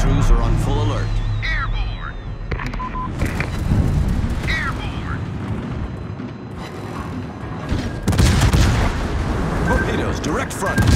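A busy video game battle fills the space with steady, dense anti-aircraft gunfire and repeated explosion booms in a continuous loud roar, while voices talk over the action.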